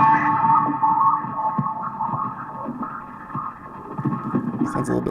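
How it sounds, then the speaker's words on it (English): A Line 6 Spider V 120 guitar amp playing guitar through a bubble echo effect, warbling repeated notes with a watery, modulated echo trail, loud and continuous. "here's a bubble echo"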